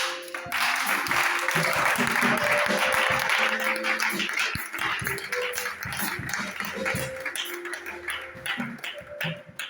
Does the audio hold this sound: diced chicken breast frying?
no